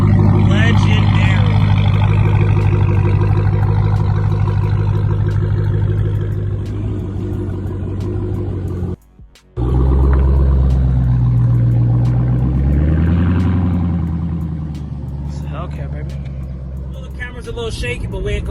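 A Dodge Hellcat's engine roars loudly and close, with deep sustained growls and rising revs, a brief cutout in the middle, then more throttle swells.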